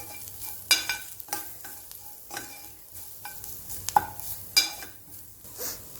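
Steamed bitter gourd being stirred with spices and salt in a pan, with repeated close scraping and clinking strokes at an uneven rhythm against a quiet background and no talking.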